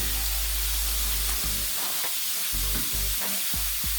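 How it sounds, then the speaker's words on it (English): Meat sears in a hot pan with a steady loud hiss and crackle throughout, while low thumps and scraping pulses from handling the pan recur every half second or so. "while this is searing on this side"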